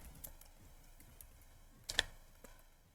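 Computer keyboard typing a line of Python code, a few soft, scattered keystrokes with one sharper cluster of clicks, quiet and close with no speech.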